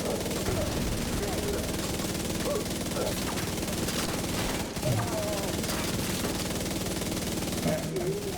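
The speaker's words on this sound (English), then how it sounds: "I'm not gonna stop firing." Gunfire in a video game, a continuous rattle of rapid automatic shots throughout, steady and moderately loud, with background effects and a voice speaking over it.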